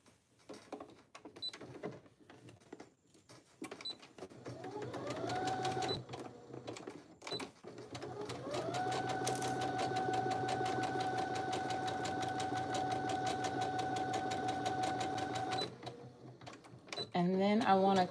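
Sewing machine stitching garment sleeves, starting with a short burst and then a long steady whirring run, heard close beside intermittent quiet talk.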